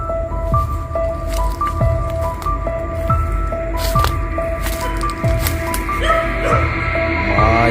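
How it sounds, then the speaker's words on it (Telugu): Several dogs barking repeatedly at night outdoors near a large tamarind tree, with a steady run of sharp barks and yips close by, a whine-like tone threading through, and no talk over it. "కుక్కలు అయితే మస్తు కొడుతున్నాయి"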